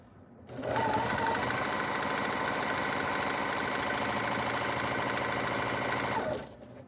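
Sewing machine back stitching the start of a quarter-inch tote bag seam, one steady run of rapid mechanical stitching close by, starting and stopping cleanly, no talking over it.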